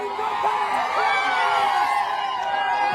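A crowd cheers and whoops in celebration after a wrestler wins a bout at a wrestling tournament, with excited shouting voices overlapping in a sustained, lively din at close range.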